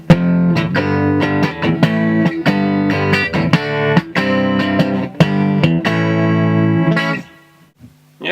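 Electric guitar played through a DOD FX80-B compressor sustainer pedal: loud, evenly compressed strummed chords in a steady rhythm, each strike sustaining smoothly before the playing cuts off near the end.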